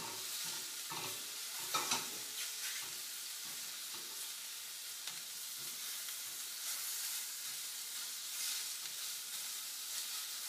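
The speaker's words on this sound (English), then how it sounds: "I'm going to turn these shrimp" Shrimp are turned and fried in a pan for sweet potato pad thai, making a steady hissing sizzle with clattering spatula scrapes and a few louder knocks near the start.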